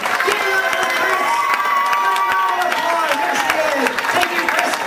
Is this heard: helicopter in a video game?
no